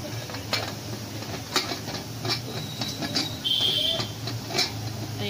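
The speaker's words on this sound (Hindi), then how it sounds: "अब मैं इसको कुकर के ढक्कन को कर दूंगी बंद" A pressure cooker lid is closed over a pot of urad dal and mutton in a home kitchen, giving a few short metallic clanks and clicks with a brief scraping tone, close and moderately loud.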